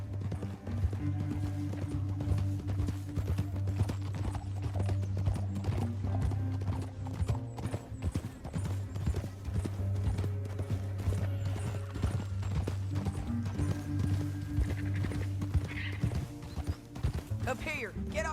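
Horse hooves clip-clop steadily in Red Dead Redemption 2, mixed under a loud orchestral score with occasional speech and a brief whinny, sustained throughout.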